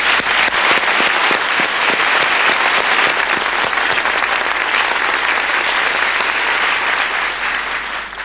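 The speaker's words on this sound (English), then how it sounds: "Let's give her a big round of applause." An audience gives a big round of applause, a loud, dense, sustained roar of clapping that holds steady for several seconds with no talking over it.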